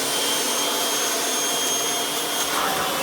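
A Kirby Ultimate G3 upright vacuum runs in tool mode, its direct-air motor spinning at higher speed with a loud, steady, high-pitched whine and rushing airflow, unbroken and alone.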